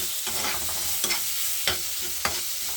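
Grated tomato sautéing in a pan with its skin, a steady broadband sizzle broken by a few sharp stirring scrapes and clatters, close and fairly loud, no voices.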